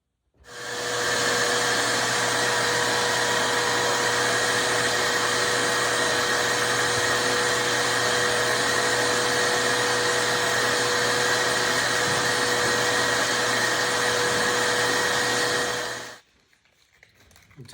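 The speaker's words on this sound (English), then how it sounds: "I'm going to vacuum that out and see where we're at." Shop vacuum roaring steadily and loudly for about sixteen seconds as it sucks debris out of a canoe under construction, then cutting off abruptly into near silence.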